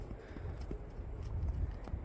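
Horses walking on a small farm, their hooves clopping in a loose, irregular rhythm at moderate distance under steady outdoor background noise.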